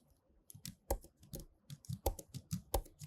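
Quick, irregular clicks of keys on a computer keyboard as a command is typed, close and fairly quiet with no other sound.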